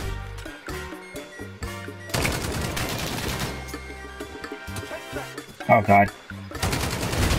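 Rapid automatic gunfire bursts from a Call of Duty gunfight, loud and close, with sharp volleys throughout and a voice exclaiming briefly over the shooting.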